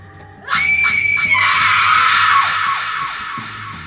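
A woman lets out one long, loud, piercing scream that begins abruptly and slowly fades over a few seconds, with faint music beneath.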